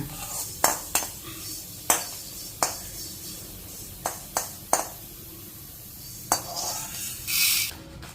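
Dry spices and dried red chillies roast in a pan for tamarind rice, with a metal spoon clinking sharply against the pan every second or so over a faint sizzle in a quiet home kitchen.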